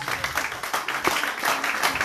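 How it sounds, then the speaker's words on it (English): Congregation applauding during a church sermon, a dense, steady wash of many hands clapping close by with rhythmic bursts throughout. "Can you clap for Jesus?"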